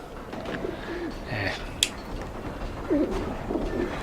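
Caged pigeons or doves cooing in the video game Alice: Madness Returns, with soft, repeated throaty coos close by and faint chirps, plus a sharp click and quiet background murmur.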